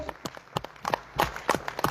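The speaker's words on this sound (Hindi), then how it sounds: "डॉक्टर लिम के लिए जोरदार ताली हो जाए एक बार।" A few scattered, uneven claps from an audience, brief and moderately near, with light background sound between them and no clear talk.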